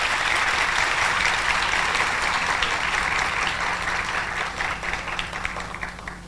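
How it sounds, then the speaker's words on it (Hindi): Loud, sustained applause from a religious discourse audience, dense clapping filling the whole stretch and easing slightly toward the end, with no speech over it. "ताली बजाओ भैया जोर से।"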